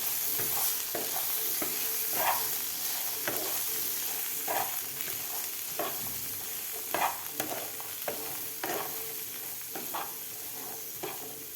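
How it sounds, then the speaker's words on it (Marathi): Green chana masala with salt mixed in a hot pan, a constant frying hiss under regular spoon scrapes and knocks that recur every second or so, close up and without speech. "व्यवस्थित आपल्याला हे मिक्स करून घ्यायचं आहे"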